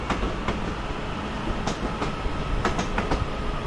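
Passenger train slowing to a stop at a red signal at Manchester Piccadilly station, a steady rolling rumble with faint clicks of wheels over rail joints throughout, close by and without talk.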